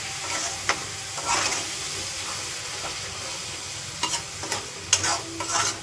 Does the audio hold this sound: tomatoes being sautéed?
yes